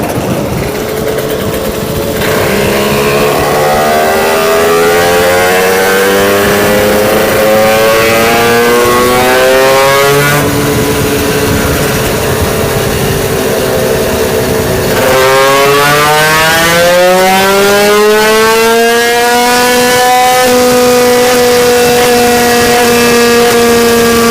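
A 15 hp engine running on a test without its airbox, a loud, close, continuous drone whose pitch rises and shifts in stages as it revs up and holds, with no talk over it.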